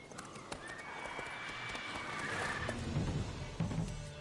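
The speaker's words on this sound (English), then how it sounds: "Whoa there, Roach" Horse hooves clip-clop on the ground in The Witcher video game, with a drawn-out neigh in the middle, fairly quiet and close, alongside faint game ambience.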